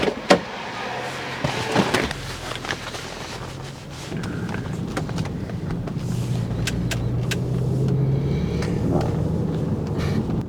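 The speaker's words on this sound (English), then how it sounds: "The ticking sound that is here right now is from the high pressure fuel pump" Audi S5 engine running with the high pressure fuel pump ticking, a rapid faint tick over a steady close engine hum, with a few clicks and knocks near the start.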